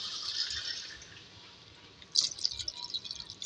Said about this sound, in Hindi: इसमें ऐड करूँगी मैं 1 गिलास पानी।